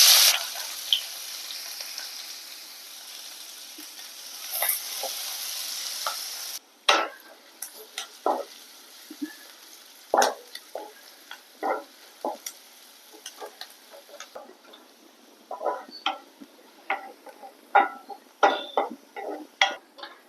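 Sliced onions fry for chicken biryani, a loud sizzle in the first seconds giving way to quieter crackling and repeated clinks and scrapes of stirring.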